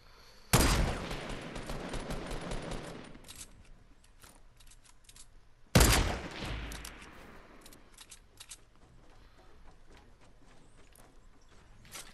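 Sniper shots in a Fortnite squads match, two loud sharp cracks several seconds apart, each followed by a ringing decay, over faint game ambience.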